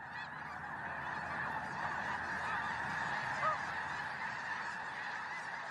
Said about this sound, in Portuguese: São gansos das neves em sua migração anual do Golfo do México para o Canadá.